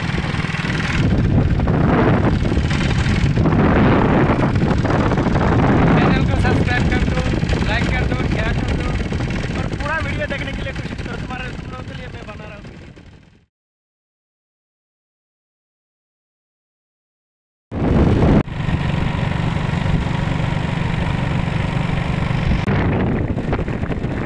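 A motorcycle ridden through town in India, with steady loud engine and wind roar over road noise and people talking, a silent gap midway, then the ride resumes.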